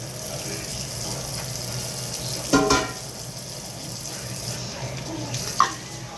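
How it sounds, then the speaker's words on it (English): Turkey necks rinsed under running tap water in a colander, a steady close water rush with a couple of brief splashes and knocks. "I'm gonna dump them all over in now and rinse them off"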